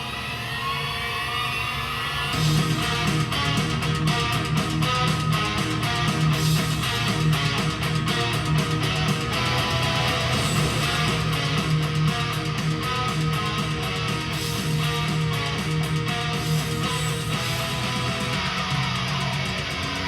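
Heavy metal song played loud, with dense distorted guitars and pounding drums kicking in after a quieter intro and driving on continuously.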